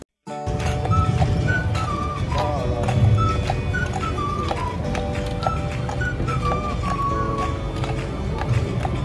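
Horse hooves clip-clop steadily during a horse-drawn carriage ride in Dallas, continuous through the clip over a busy bed of background noise and tonal music-like sounds, with occasional voices.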